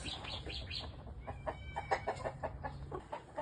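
Rhode Island Red hens cluck in a backyard coop where they have started laying eggs, a quick series of close, rhythmic clucks and squawks rising and falling over a low steady hum.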